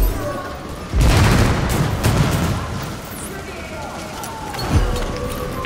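Gunfire and booming blasts in a hard-mode wave shooter game, a loud burst of shots near the start with scattered firing and a later thud, while players talk over it.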